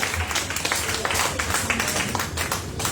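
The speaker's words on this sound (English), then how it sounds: "Round of applause, please." Audience clapping at a Petaling Jaya election candidates' event in Malaysia, a continuous, fairly close patter of many hands with a few sharper individual claps standing out.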